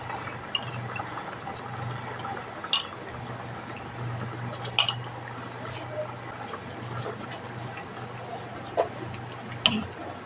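A cornstarch slurry dissolved in water is poured a little at a time into a pan of simmering chicken menudo. The soft liquid pouring is faint and steady, broken by a few light clinks and drips, over a low background hum.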